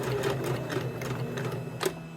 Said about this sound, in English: you're going to sew straight across